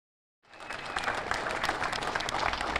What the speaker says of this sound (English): A round of applause for Officer James Santana as he made his way out of the hospital this afternoon.